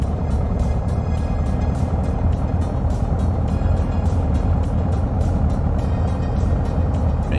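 A propeller aircraft engine in Microsoft Flight Simulator revs up to a loud, steady droning roar with a fast rhythmic pulse that holds throughout, with no voices.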